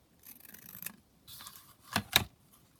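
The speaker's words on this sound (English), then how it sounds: "So I might just cut it down slightly here." Scissors cut down a paper junk journal page in a few quiet, close snips, ending with two sharper cuts.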